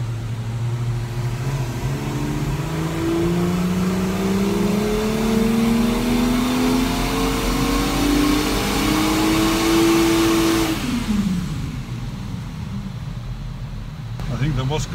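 A 2019 BMW X4 M40i engine pulls hard on a dyno, its drone climbing steadily in pitch through a long wide-open run before cutting off and winding down, loud and close.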